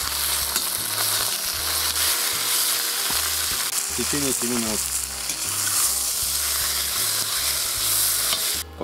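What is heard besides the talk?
meat browning in a cauldron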